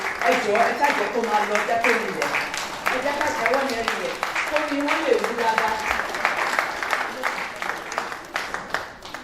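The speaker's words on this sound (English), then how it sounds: "Ladies and gentlemen, a very big applause, round of applause" Audience at a sepsis awareness talk and book launch clapping in sustained applause, a dense steady patter of hands filling the room with voices murmuring underneath throughout.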